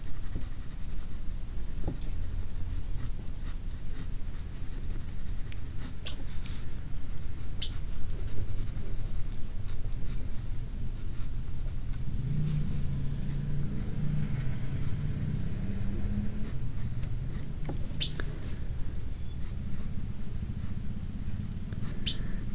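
A pencil scratches on paper while drawing mousebirds, close to the microphone, a steady soft scraping with small taps and strokes running continuously throughout.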